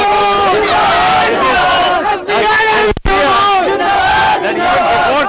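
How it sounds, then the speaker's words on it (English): Frenzied crowd at Tejashwi Yadav's Bihar election rally, a dense roar of many shouting and chanting voices that stays loud and continuous, with one brief dip near the middle. "this is the kind of crowd frenzy that we are witnessing"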